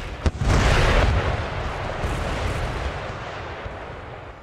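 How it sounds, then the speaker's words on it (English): Artillery volley in Empire: Total War during a Calcutta battle, a sharp crack followed by a loud rolling blast of cannon fire that slowly fades into a lingering rumble, no voices. "All my artillery is going to focus on the enemy here"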